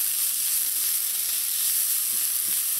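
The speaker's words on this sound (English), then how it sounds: "When your oil is hot, add your onions in." Onions sautéing in hot oil: a steady, bright, hissing sizzle, close and loud, continuous with no pauses and no talking.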